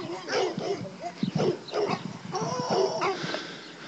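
Dogs and puppies yip, whimper and bark in short bursts nearby at a fair volume, with some voices mixed in.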